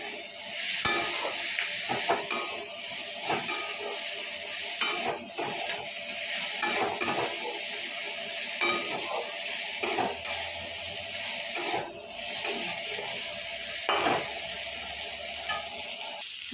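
Onion sizzles in a pan with coriander powder, other ground spices and a little sugar for a mixed vegetable curry, a quiet hiss broken by scraping, clinking stirs of a utensil against the pan.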